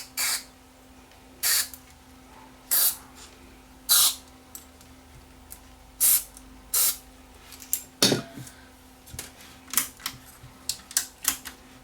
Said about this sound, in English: Let me get some cleaner into these switches here, and we'll just clean these switches up.